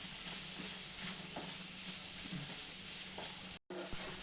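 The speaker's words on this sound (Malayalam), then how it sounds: "ഇതെല്ലാം കൂടി നന്നായിട്ടൊന്ന് നമുക്ക് വഴറ്റിയെടുക്കാം" Onion, ginger, garlic and curry leaves sauté in a pan with a steady soft sizzle, joined by occasional light stirring scrapes, close and fairly quiet.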